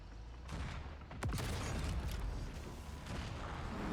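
Carpet-bombing barrage in the video game Project CW: a dense, continuous rumble of heavy explosions with sharp blasts breaking through, loud and unbroken after a brief lead-in.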